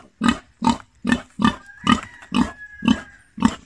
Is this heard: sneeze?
no